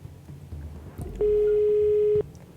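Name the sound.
telephone ringing for a call on a quiz show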